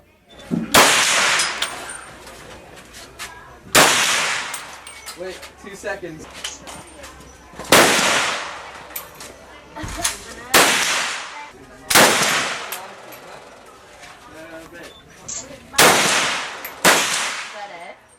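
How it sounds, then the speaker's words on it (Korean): Live rounds are fired at the Cu Chi Tunnels shooting range in Vietnam: loud, sharp gunshot bursts every few seconds, with quieter voices and ambient outdoor noise between shots. "자, 그럼 실탄 사격 현장을 구경해 볼까요?"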